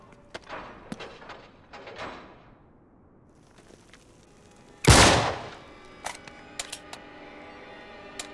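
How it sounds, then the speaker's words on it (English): A single loud, sharp gunshot blasts at a lock in the video game Uncharted 3, following quieter scuffling game sounds and leaving a few faint clicks and ambient noise afterward. "Back up, I'll shoot the lock."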